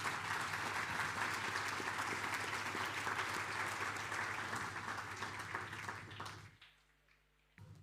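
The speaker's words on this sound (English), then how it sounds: "Let's give Minister Mania a big round of applause" A crowd at an awards ceremony applauds steadily for several seconds, a dense wash of clapping that fades out near the end.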